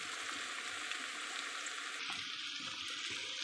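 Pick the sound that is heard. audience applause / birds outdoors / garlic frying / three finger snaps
garlic frying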